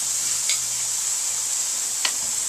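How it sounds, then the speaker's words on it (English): Marinade poured onto pork chops on a hot grill sets off a steady, bright sizzle that fills the whole stretch, with two faint clicks of a utensil along the way and no talking. "it helps to dump a little bit of our marinade on here to allow it to cook on"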